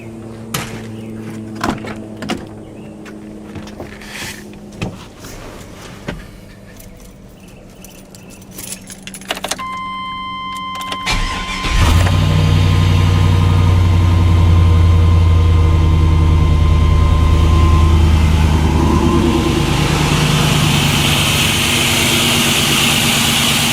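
Keys jangle and click in the ignition of a 1995 Chevy Cheyenne fitted with a swapped 5.3 LS V8, then the starter whirs briefly. The cold engine fires and settles into a loud, steady, deep idle that continues to the end.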